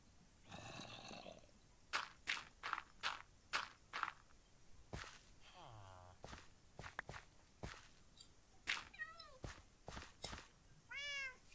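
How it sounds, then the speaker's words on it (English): Meowing cat from the Minecraft game, several short, quiet mews amid a run of regular blocky footsteps, with a low snoring-like growl midway; no speech. "That's one of those cats."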